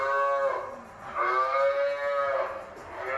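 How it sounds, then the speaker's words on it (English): A cow moos loudly and close by inside a KFC restaurant, giving two long drawn-out lowing calls with a short break between them and no talk over them. "It's a cow!"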